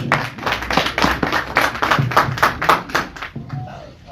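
A small gathering claps in a quick, uneven burst of hand claps that lasts about three seconds and then thins out. Brief voices are mixed in.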